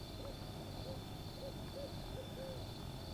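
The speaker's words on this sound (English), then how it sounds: "The owl is back." An owl hoots at night beside a cold-weather camp, giving a string of short, evenly spaced calls, roughly one every half second, over a steady hiss and a high whine of insects or wind, distant and moderately faint.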